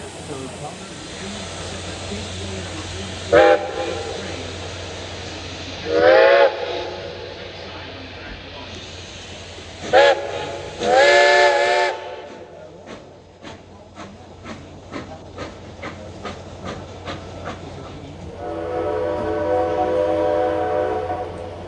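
Reading & Northern steam locomotive 2102 sounds its whistle in several loud, close blasts, the longest about two seconds, over a low rumble and hiss. A run of short rhythmic chuffs and a sustained steam hiss follow, with a voice speaking briefly.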